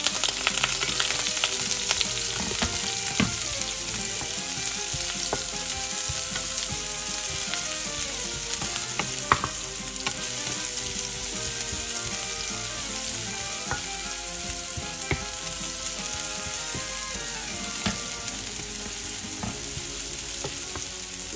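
Onion sizzling and frying in a pan for Filipino sautéed bitter melon with egg, a continuous close crackle with occasional stirring clinks and scrapes, no talking.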